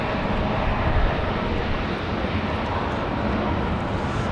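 An American Airlines Boeing 737 jet departs Raleigh-Durham International Airport, a loud, continuous broadband engine roar filling the scene, with steady wind buffeting throughout.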